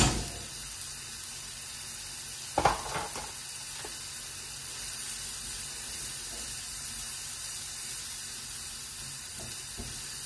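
Onion and minced garlic sautéing in a pan give a continuous hiss and sizzle, with a sharper clank or stir about a quarter of the way in and a few faint knocks afterward.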